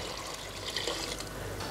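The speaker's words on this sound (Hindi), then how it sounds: "और इसमें डालेंगे पानी। तो आपने जितना भी चावल लिया है उससे डबल आप इसमें पानी डाल दें" Water is poured into a pot of spiced rice with chopped coriander for kabuli pulao made with chickpeas, a steady close trickling splash that runs throughout without speech.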